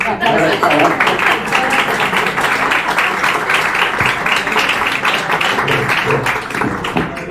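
Audience applause following an introduction at a talk, dense and steady clapping filling the room for several seconds, loud and close with possible voices mixed in.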